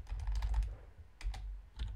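Computer keyboard typing in bursts of quick clicking keystrokes, a run at the start, then a pause and two shorter bursts, close and fairly quiet with no talk.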